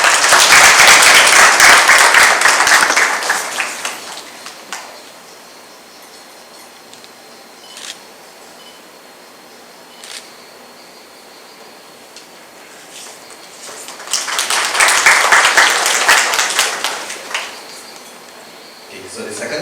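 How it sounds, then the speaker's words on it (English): An audience at a night-time Ramayan Yagya gathering applauds in two loud bursts, the first fading after a few seconds, a quiet stretch with faint scattered sounds between, then a second strong round. "please give her a round of applause"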